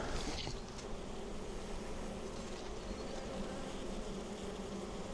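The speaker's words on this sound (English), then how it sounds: "plenty of bees in there" Honeybees buzz in an open spring production hive, a dense, steady hum filling the whole stretch without pause, close and even in level, with no voices over it.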